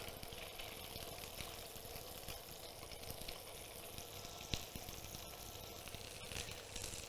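A turbot fillet sears skin-side down in a hot pan, giving a steady, faint, even sizzle and crackle that holds without break, with one small pop partway through.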